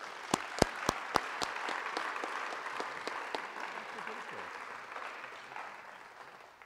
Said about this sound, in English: A nice round of applause for these gentlemen.